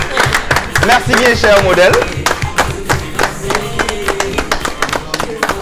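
TV show audience clapping for a model on stage, a rapid irregular burst of sharp hand claps, loud and close, with someone speaking over the first half before the claps thin out.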